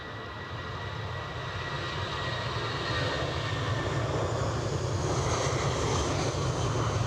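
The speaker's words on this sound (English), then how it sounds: "EasyJet 320 Neo on its way to Amsterdam." An EasyJet Airbus A320neo jet airliner bound for Amsterdam, heard at Edinburgh, gives a steady broadband engine roar that builds slightly and holds loud throughout, with no voices.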